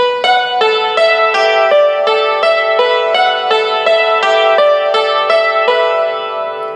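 Rapid alternating two-handed strikes on a yangqin produce a bright, shimmering stream of ringing metallic notes, steady and continuous with no talking.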